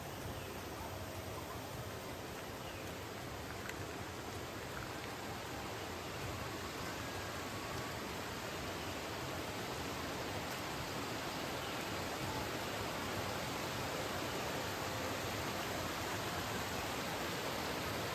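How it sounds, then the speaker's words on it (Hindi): Water from Devkund waterfall flows through a forest stream in Balasore, heard as a continuous, even rushing wash with no breaks or voices. "ये देखिए ये पानी जो बहते हुए आ रहा है ये वाटरफॉल से ही बहते हुए आ रहा है"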